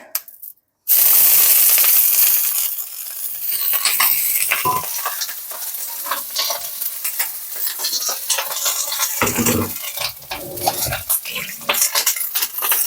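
Vegetables hit a very hot oiled pan for a Thai green curry and burst into loud, close sizzling and spitting frying that continues steadily, with occasional utensil stirring scrapes and no talk.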